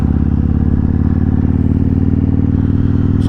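A motorcycle with about 18,000 km on it cruises along a road, its engine a loud, steady, close drone with a throbbing rhythm and wind rush, no voices.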